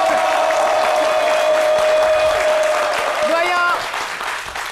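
A studio audience on a French midday television show applauds while a sustained musical tone and jingle play loudly, the clapping continuing under the music before it fades toward the end.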